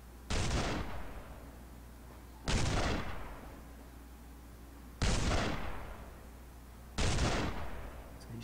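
Four loud, sharp gunshots in PUBG, spaced about two seconds apart. Each boom has a long echoing tail that fades before the next shot, with no voices over them.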